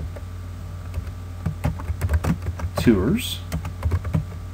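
Light, irregular clicking of keys on a computer keyboard while text is entered into a PowerPoint 2013 slide, the taps soft and steady beneath a narrator's spoken instructions.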